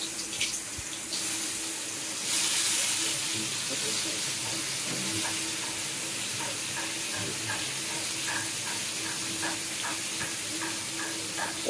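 Pointed gourd frying in a pan in a village kitchen, a steady close sizzle with scattered crackles and pops running throughout, alongside some watery splashing.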